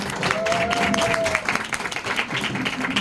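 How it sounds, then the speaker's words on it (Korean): Brief applause from an audience opening the second part of a group business meeting, a dense patter of clapping that thins out over about three seconds, with a faint tone and murmur underneath. "우리 그룹 미팅 2부 큰 박수로 시작하겠습니다."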